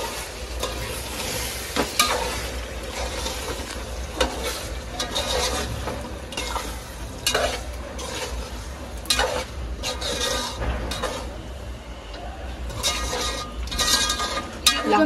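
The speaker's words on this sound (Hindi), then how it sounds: "अच्छे से इसका क्विक स्टर देंगे हम अभी" Mutton biryani masala stirred quickly in a pot, with steady sizzling and frying under repeated scraping strokes of a spoon against the metal, close and continuous.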